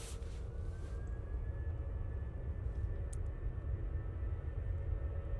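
An Aer Lingus airliner on final approach to Manchester Airport gives a faint, steady distant drone with a thin tone that slowly rises, holding evenly throughout with no voices.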